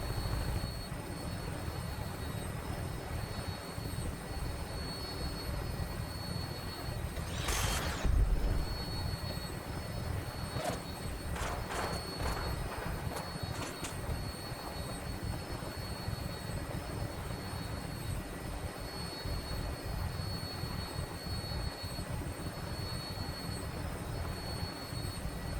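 Vertibird aircraft from Fallout 4 in flight, a steady droning engine and rotor roar holding evenly throughout, with a brief louder whoosh partway through.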